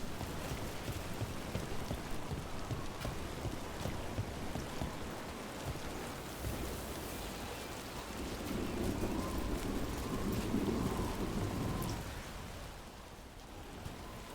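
Rain pours steadily in Dragon Age: The Veilguard, a dense hiss of falling drops that swells louder in the middle before easing, with no voices over it.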